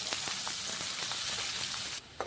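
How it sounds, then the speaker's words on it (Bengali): Chopped onions, two large ones, sizzle steadily in hot oil for chicken kosha, a dense continuous frying hiss with faint stirring clicks that drops away abruptly near the end. "আর এখন দিয়ে দিচ্ছি কুচানো পেঁয়াজ"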